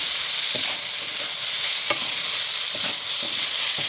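Chalta (elephant apple) pieces for a sweet-sour pickle fry in hot oil with a steady close sizzle, broken by several sharp scrapes of a spatula stirring through the pan.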